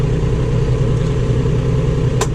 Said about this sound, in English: Now the PTO is running.